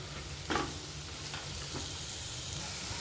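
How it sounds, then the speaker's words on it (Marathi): Pavta beans sautéing in spice masala fill the pan with a continuous close sizzle, broken by a few scraping stirs of the spatula, with no talking. "असे हे मसाले आणि हा पावटा आपल्याला परतून घ्यायचा आहे"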